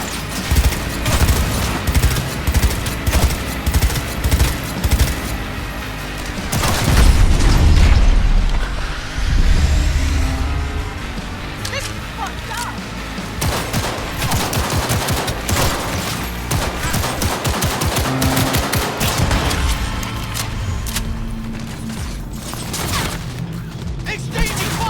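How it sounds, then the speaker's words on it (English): A heavy firefight in Cyberpunk 2077, with sustained automatic bursts and rapid gunshots crackling nonstop, punctuated by deep booming explosions, all loud and dense. "Exchanging fire!"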